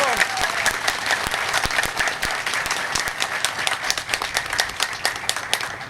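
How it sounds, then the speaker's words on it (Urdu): An audience claps continuously, a dense, lively patter of many hands filling the space with no pause, while a voice speaks faintly underneath. "یہ آپ کی تالیوں میں وہ جذبہ نہیں ہے جو ان کی حوصلہ افزائی ہونی چاہیے"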